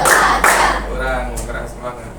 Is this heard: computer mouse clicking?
no